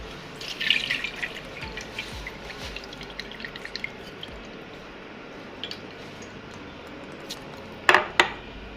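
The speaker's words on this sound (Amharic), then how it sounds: "ሩዛችንን አጥበናል ውሃውን አጥበን" Rice is rinsed in a bowl of water, with soft, steady sloshing and dripping close by, and a couple of sharper splashes near the end. No one speaks.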